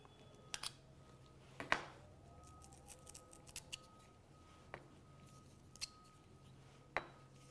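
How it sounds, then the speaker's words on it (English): Metal baffles from a carbon-fouled Ruger Silent-SR rimfire suppressor clink as they are pulled apart: a handful of sharp, quiet, widely spaced metallic taps against a near-silent background, with no talking. "begin separating the baffles from each other"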